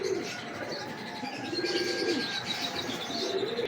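Heera Lal breeder pigeons cooing at a home loft, a steady, fairly close run of low throaty coos with faint chirps in the background.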